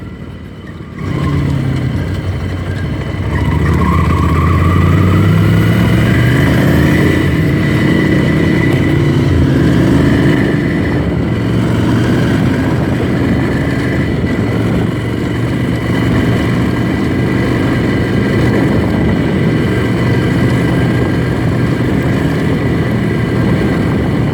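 A Ducati Scrambler Desert Sled motorcycle is ridden on pavement, its engine roaring loud and close with rising and falling revs through gear changes, joined by steady wind noise throughout.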